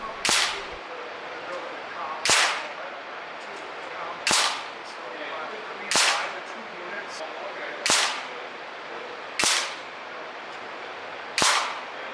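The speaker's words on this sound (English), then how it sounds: "Shooter 3 firing 10 rounds with the Daystate AirWolf" A Daystate AirWolf MCT air rifle firing round after round, seven sharp, close cracks spaced about two seconds apart over quiet background.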